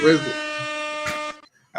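A loud, sustained air horn blast lasting over a second, cutting off abruptly, with a brief burst of noise near the end.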